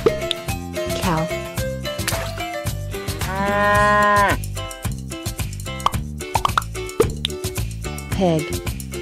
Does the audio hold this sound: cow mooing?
yes